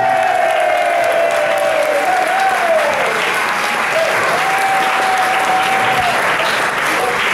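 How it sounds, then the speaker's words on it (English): Wedding guests applaud the bride during a best man speech, with loud, dense, continuous clapping filling the room and a thin whistle-like tone rising and falling above it. "Can we have a round of applause for Ruta, please?"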